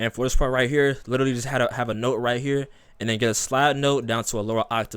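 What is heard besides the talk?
No everyday noise stands out behind the speech.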